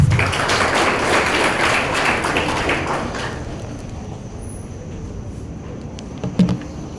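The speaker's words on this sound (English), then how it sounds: "Vasisht with a big round of applause." An audience of college students applauds to welcome a company chairman. The clapping is dense and fairly loud for a few seconds, then fades into a quiet room with a faint bump near the end.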